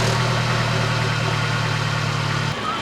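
A Mercedes car engine idles after a warm start, a steady low rumble with a smooth exhaust note, close and continuous before cutting off abruptly near the end.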